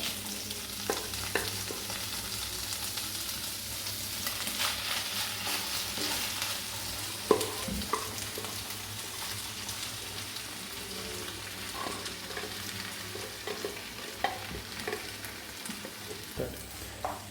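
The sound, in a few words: stirring brown rice and quinoa upma with vegetables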